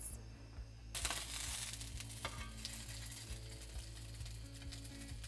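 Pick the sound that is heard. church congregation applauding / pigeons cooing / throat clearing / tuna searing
tuna searing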